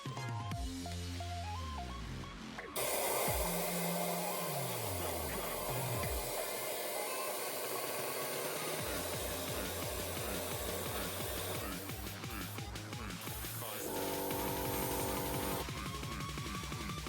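Compressed air blowing dust out of a Triumph 2500 engine block during a rebuild, a loud continuous rushing hiss that runs throughout with shifting tonal whines and changes in pitch, no talking.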